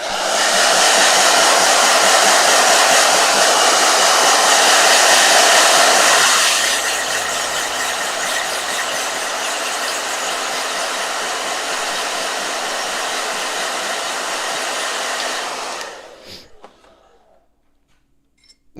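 A hair dryer blows loudly and steadily for about six seconds, then drops to a lower, softer setting that runs for several more seconds before switching off and fading to near silence.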